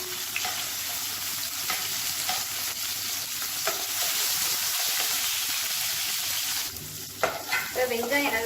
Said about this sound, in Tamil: ஒரு பச்சை மிளகா பொடியாக நறுக்கினதை சேர்த்துக்கலாம் அதோட ஒரு கைப்பிடி அளவுக்கு சின்ன வெங்காயம் பொடியாக கட் பண்ணதை சேர்த்துக்கலாம்